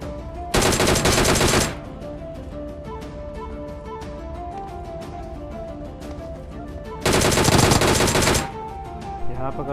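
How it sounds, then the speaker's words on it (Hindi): Video game gunfire during a jump-and-shoot move in a duo-versus-duo rush match: two loud, dense bursts of rapid automatic shots about six seconds apart, with game background sounds between them and no talk. "यहाँ पर करता हूँ मैं कमाल का जंप एंड शूट और इस बंदे को भी ख़त्म कर देते हैं"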